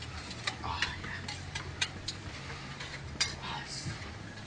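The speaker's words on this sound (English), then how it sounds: "Again, just whisk her up nice and good." A marinade base for chicken is whisked in a bowl, giving light, irregular ticking and clinking strokes that stay fairly faint and close, with no speech over them.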